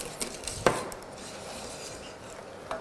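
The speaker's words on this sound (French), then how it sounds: "On va bien la mélanger pour bien la lisser." Chocolate glaze paste worked in a bowl with a whisk or utensil, giving faint scraping and clinks with one sharper knock against the bowl, quiet and close, no talking.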